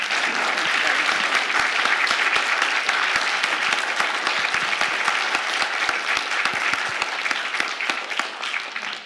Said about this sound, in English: Warm round of applause, shall we?